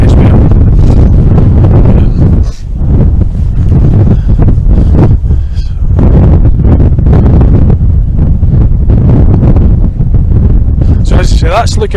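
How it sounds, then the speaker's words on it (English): Heavy wind buffeting the microphone on Falkland Hill (East Lomond Hill), Scotland, a loud continuous low rumble with gusty surges across the whole stretch, no clear talk above it. "It's very, very windy,"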